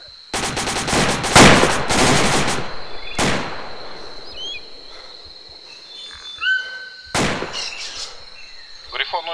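Several bursts of rapid gunfire in the video game ArmA 2, a long rattling volley at the start and two shorter bursts later, with faint electronic beeps and chirps in between.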